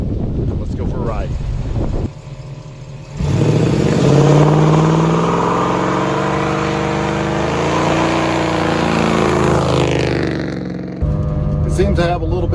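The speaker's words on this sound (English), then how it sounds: "It seems to have a little bit of weak sauce going on those burnouts." A car fitted with a mini spool is doing burnouts, its engine and tyres making a loud sustained roar that swells for several seconds with wind buffeting the microphone, and voices are heard at the edges.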